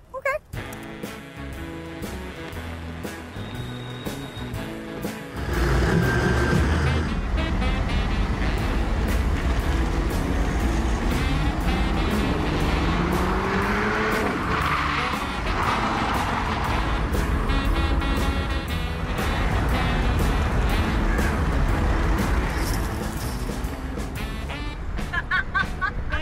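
A compact Mercedes-Benz car driving, with a steady low road and engine rumble, tyre noise, and interior rattles and clicks heard from inside the cabin, with music and voices over it.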